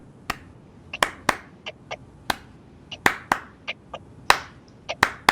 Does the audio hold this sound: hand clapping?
yes